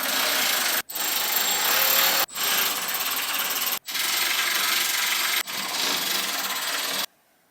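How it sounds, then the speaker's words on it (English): Power tool whirring in close, loud bursts on an R32 Skyline, five runs of one to two seconds each broken by brief stops, then cutting off abruptly into quiet. "I literally have power tools, but this should make it a lot faster"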